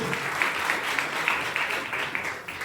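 Loud applause for a teacher at a coaching-class gathering, many hands clapping in a brisk, slightly rhythmic patter, close and steady, fading a little at the end.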